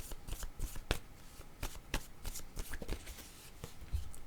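A tarot deck shuffled by hand in short papery bursts of flicks and slaps, close and fairly quiet, with no talking.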